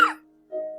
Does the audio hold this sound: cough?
yes